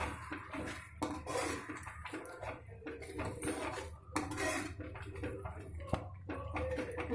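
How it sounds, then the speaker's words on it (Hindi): Matar paneer with added masala being mixed in a pan, giving scattered clinks and scrapes of a utensil against cookware over a steady low kitchen background, with no talk. "अब मैं इसे अच्छे से मिक्स कर लूंगी।"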